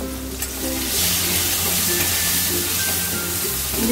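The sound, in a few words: stirring jackfruit seeds with turmeric and green chilli in pan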